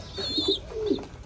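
American Giant pigeons kept in Thai-style cages give a few brief, soft, low coos in quick succession, close by with a faint background hum.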